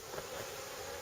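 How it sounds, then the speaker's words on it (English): Honey bees cluster on top of a hive frame, giving a faint, steady buzzing hum that holds evenly through the brief moment. "there's quite a lot of bees on top"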